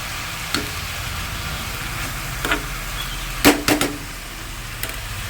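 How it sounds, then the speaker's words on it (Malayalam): Crushed coconut sizzles in a frying pan for an English spinach and plantain thoran, a steady frying hiss broken by several sharp spatula scrapes and taps against the pan. "ചതച്ച് തേങ്ങ ഫുള്ളിട്ട് ഇളക്കി കൊടുക്കണം"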